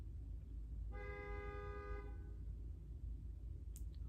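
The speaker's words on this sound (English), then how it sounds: "apparently the person honking their horn out there doesn't want me to tell you" A car horn honks once outside, a single steady toot of about a second, heard at moderate distance through a room's background hiss with no talking.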